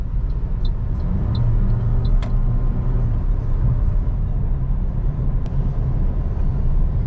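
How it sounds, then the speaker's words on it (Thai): A 2018 Toyota Altis 1.8 Esport sedan accelerating, its steady engine and road rumble loud and continuous throughout with faint ticks above, no one talking. "อัตราเร่งของเจ้าคันนี้นะครับ ถือว่าดีเลยนะครับแรงนะครับ"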